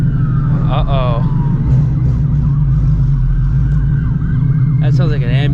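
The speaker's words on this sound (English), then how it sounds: "That sounds like an ambulance, though." An ambulance-type emergency siren wails at a distance, its rising and falling sweeps showing clearly near the start and again near the end, over a steady low rumble from a Shelby GT350's engine and cabin.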